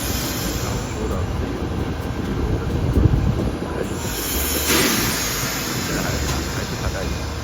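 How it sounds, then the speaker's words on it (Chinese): An old-style green passenger train rumbles along in Morocco, a steady rolling clatter of carriages and wheels with a continuous high hiss, heard from inside at close range with no talk over it. "老式的绿皮车，坐火车去机场"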